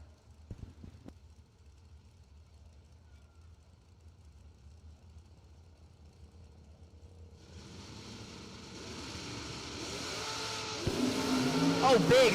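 Drag racing cars launch one after another at a wheelie contest, engines building from a distant rumble into a loud, rising roar over the last few seconds, with a commentator talking throughout.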